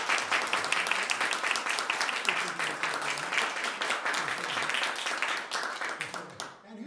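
A debate audience applauds steadily as a vote for one side, dense clapping sustained for about six seconds before tapering off near the end.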